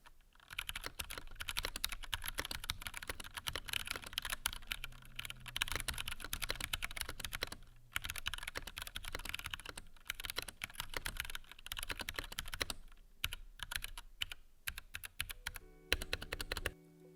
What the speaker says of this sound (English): Let's start things off with an audio test or some nice mechanical keyboard ASMR